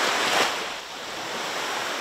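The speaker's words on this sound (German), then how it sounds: "Im endlosen Auf und Ab der anlaufenden See" Sea waves breaking on the Sardinian coast, a broad washing surge that peaks early and then settles into a steady hiss, heard alone without voices.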